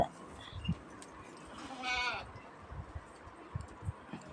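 A white goat on a farm lets out one clear, wavering bleat in the middle, among faint scattered knocks and rustling noise.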